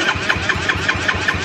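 Starter motor of a small moped cranking with the ignition cut, the engine turning over with a quick, steady pulsing whir of about eight beats, close and fairly loud, with no talking.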